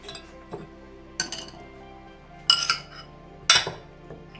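Plates and dishes clink sharply in a kitchen as a bigger plate is fetched. Several distinct ringing knocks are spaced a second or so apart, close and fairly loud, with quiet in between.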